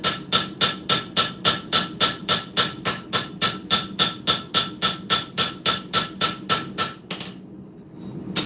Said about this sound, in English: more planishing on the blade